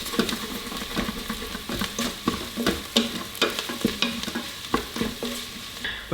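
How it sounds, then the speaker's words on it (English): Onions fry and sizzle in an Instant Pot, broken by repeated scraping stir strokes of a utensil against the pot, steady and close with no talking. "Starting to see a little bit of brown poke through there. So I'm gonna give them the first stir."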